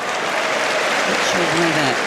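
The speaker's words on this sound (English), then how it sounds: "Applauding the first serve miss" Tennis crowd at the 2025 US Open men's final between Alcaraz and Sinner applauds a missed first serve, a brief burst of clapping in a large stadium with murmuring voices underneath.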